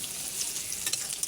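Onion and garlic fry in a pan with a faint, steady sizzle and light stirring over a brief moment.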